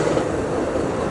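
A northbound passenger train passes near Santa Barbara, giving a brief, steady rumble of rolling rail cars with no voices.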